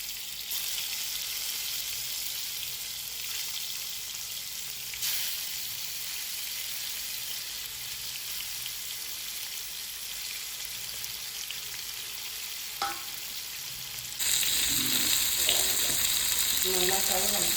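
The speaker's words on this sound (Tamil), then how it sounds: "அது அப்படியே ஃப்ரை ஆகி வந்ததும் அதுக்கப்புறம் ஃபிஷ்ஷை போடலாம்." Fish pieces fry in hot oil with a continuous close hiss and soft crackle, a couple of brief knocks around the middle, and a louder, brighter surge of sizzling near the end as more pieces go in.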